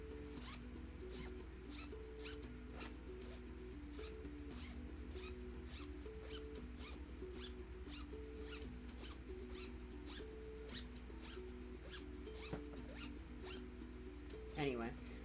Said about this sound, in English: Zipper test, zippy.